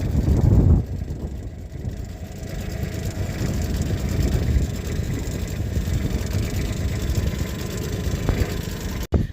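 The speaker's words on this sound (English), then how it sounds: "there is a bit of a wind today, so it is a wee bit blustery" Blustery wind buffets the microphone aboard a moored boat, a continuous low roar with gusty swells and no talk over it.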